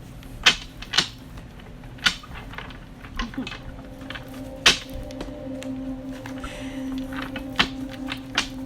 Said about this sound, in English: I split the deck to shuffle again